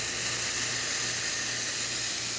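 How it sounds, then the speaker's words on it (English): Steam wand of a freshly serviced La Pavoni espresso machine blasting a loud, steady, unbroken hiss, alone and close, with a faint low hum beneath. "Go ahead and test the steam."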